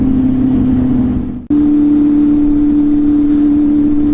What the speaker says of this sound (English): this ER5 that Alex is riding